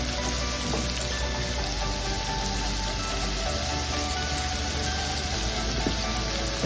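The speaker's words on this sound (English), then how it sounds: "I'm cooking onions right now" Onions sizzle in melted unsalted butter in a pan with a steady, dense crackling hiss that stays even and continuous throughout, without any talking.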